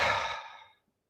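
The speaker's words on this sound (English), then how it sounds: "Okay, let's do another deep breath." A single long exhale during a stretching routine, a loud, close, breathy sigh that fades out over less than a second.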